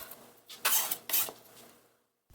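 Chopped mung bean sprouts, minced for Korean mandu filling, tipped into a bowl with two close clattering bursts of dish and utensil contact, then quiet.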